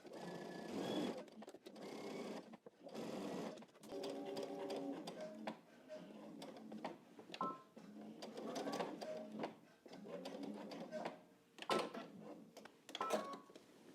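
Sewing machine back stitching the start and end of a seam while sewing a pattern. Short whirring bursts of stitching alternate with brief pauses and reversals, close and fairly quiet, with no talk.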